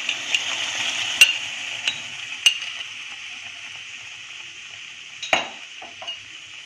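Thick tomato paste going into a hot pan on a medium gas flame, with a steady soft sizzle throughout and a few sharp clinks of a spoon against the pan.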